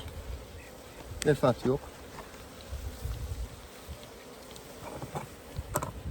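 Honey bees buzz around a hive during a varroa mite count with formic acid treatment, a steady insect hum with a few louder passes near the microphone, over wind noise and brief speech.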